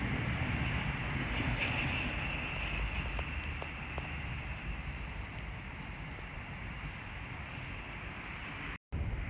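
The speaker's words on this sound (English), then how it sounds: "Now departing is the 12:58 Great Northern service from Welwyn Garden City to London King's Cross, being worked by 717-017" A Great Northern Class 717 electric train pulls out of Welwyn Garden City station on the East Coast Main Line, a steady low rumble and hum heard at moderate distance with wind noise, no talking.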